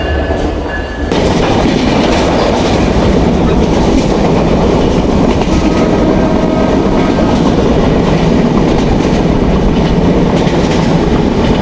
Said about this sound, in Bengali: ডাবল এক্সপ্রেস ট্রেনের লোকোমোটিভ